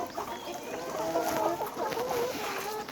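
Several layer hens on a poultry farm cluck steadily and close by, their short overlapping calls continuing over a soft barnyard hiss.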